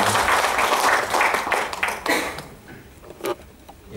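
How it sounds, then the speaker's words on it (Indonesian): An audience at a book launch applauds the authors, a burst of many hands clapping that swells, then tapers into scattered individual claps over a few seconds. "Boleh kita beri tepuk tangan untuk mereka."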